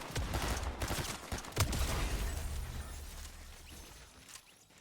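Burst of video-game gunfire in a Fortnite match, dense rapid shots loud at the start, then tapering into fainter rumbling echoes with no talk over it.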